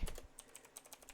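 Quiet, close clicks of fingers typing on a computer keyboard, a quick irregular patter of separate keystrokes.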